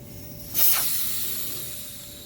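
Air bursts out of a Craftsman 8/28 snowblower tire as the valve core is unscrewed, a sudden loud hiss that starts sharply, then holds as a steady rushing stream, fading slightly as the pressure drops.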